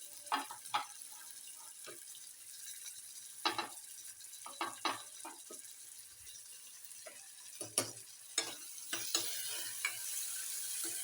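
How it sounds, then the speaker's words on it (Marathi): Onion and tomato fry in a pan, giving a faint, low sizzle broken by scattered sharp clinks and scrapes of stirring. "छान भाजून घेऊयात कांदा आणि आता टाकूया त्याच्यामध्ये टोमाटर"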